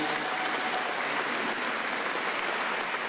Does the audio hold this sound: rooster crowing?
no